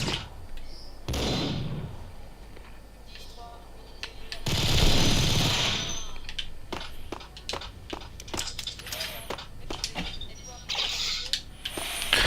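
Gunfire in the Max Payne shooter on Xbox: a few short bursts and sharp single shots crack out amid clicks and mechanical game effects, moderately loud, with pauses between volleys.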